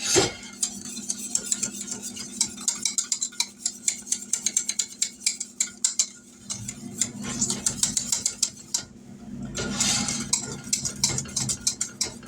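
A whisk rapidly stirring coconut cream pie filling in a pot, a brisk run of metallic clicks and scrapes against the pot, close and steady, slowing briefly before resuming.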